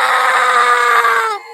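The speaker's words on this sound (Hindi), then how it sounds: "तभी गोपी की चीखने की आवाज आती है" A cartoon man lets out a single loud, sustained scream that holds steady for over a second, then cuts off abruptly, with nothing else heard.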